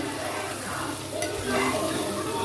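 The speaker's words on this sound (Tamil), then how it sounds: "வெந்தயம், கடுகு, பச்சை மாங்காய் போட்டு நல்லா வதக்கணும்." Fenugreek, mustard seeds and raw mango sauté in a hot pan for a mango pachadi, giving a loud, steady sizzle with stirring scrapes close by.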